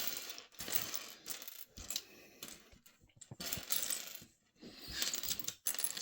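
Loose LEGO bricks from a big mixed lot rattle and clatter as they are sorted, in bursts of bright plastic clicking and tumbling that rise and pause repeatedly, close and fairly loud, with no talking.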